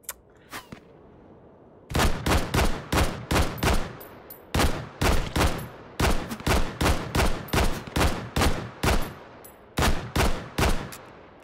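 Enemy gunfire in the VR shooter Hot Dogs, Horseshoes & Hand Grenades, loud close bursts of rapid automatic shots in repeated clusters of four to six, with short pauses between volleys.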